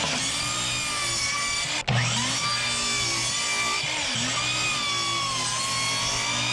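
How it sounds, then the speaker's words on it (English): Six-foot wooden fence boards being cut to three-foot lengths outdoors, a steady droning saw whine running continuously with one brief break partway through, close and loud over wind. "we're going to cut all these 6-foot fence boards at 3 feet because we want to make a 3-foot box"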